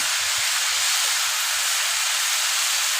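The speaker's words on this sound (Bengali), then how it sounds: "মশলাটা যাতে পুড়ে না যায়, তার জন্যে কষাবার জন্যে সামান্য একটু জল দেবো।" Spice paste for a pumpkin and potato curry sizzling and hissing in the pan as a little water is added, a steady loud broadband sizzle throughout with no talk.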